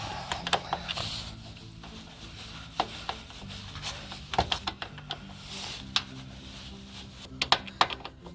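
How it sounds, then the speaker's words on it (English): A screwdriver works on a hose fitting while a new side fuel tank goes into a 1990-96 Ford F150, giving sharp irregular scraping clicks and ticks at close range, clustered in the middle and near the end. "Now I'm using a screwdriver,"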